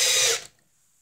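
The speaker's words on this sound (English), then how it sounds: "And I'm gonna use the screw gun here." Screw gun driving a screw into an electrical box in an office building, a single short whirring burst that cuts off abruptly, then silence.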